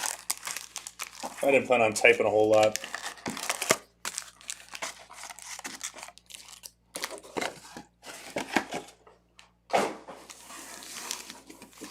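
Foil wrappers of 2020 Donruss baseball hobby packs tear and crinkle up close, a loud burst of crumpling followed by lighter scattered rustles, with someone talking over it.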